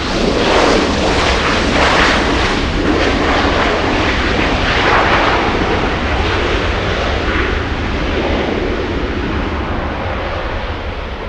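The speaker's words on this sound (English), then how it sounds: "Aileen says that Hercules arrival was a real treat." Lockheed Hercules turboprop aircraft arriving at Los Angeles airport, a loud, close, sustained engine drone with pulsing propeller texture that eases off slightly toward the end, no voices.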